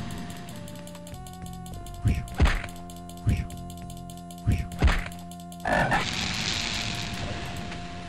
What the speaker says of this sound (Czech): Tak, tam je taky žába.